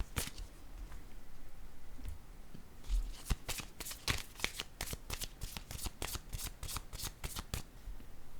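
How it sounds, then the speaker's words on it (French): Playing cards shuffled in quick repeated riffles, then a small card drawn from the deck, with crisp rapid flutters and snaps close up in a quiet room and no talking. "Je vais piger une autre petite carte."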